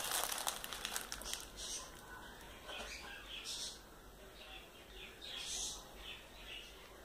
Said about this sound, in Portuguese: Vocês não reparem o barulho dos meus periquitos australianos, tá?